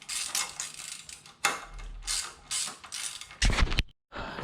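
Ratchet wrench tightening the rear axle of a 2009 Buell XB12S motorcycle during a drive belt replacement, giving several bursts of close, rapid clicking with short pauses between strokes and no talk.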